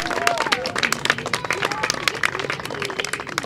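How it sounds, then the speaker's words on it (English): Crowd applause and clapping for the Boston Parks Department at the Healy Playground ribbon cutting celebration, dense sustained clapping with background chatter throughout. "How about a round of applause to the Parks Department for their great work?"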